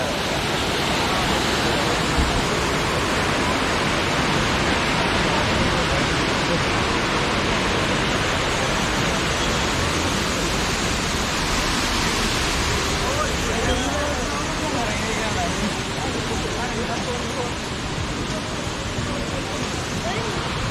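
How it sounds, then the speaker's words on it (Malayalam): Cheeyappara waterfall in Munnar, Kerala, with water dropping from about a ten-storey height, gives a steady, loud, broadband roar that holds unbroken throughout, with no talk heard. "ഒരു 10 നില കെട്ടിടത്തിൻ്റെ ഹൈറ്റിൽ നിന്നാണ് വെള്ളം താഴത്തേക്ക് വരുന്നത്"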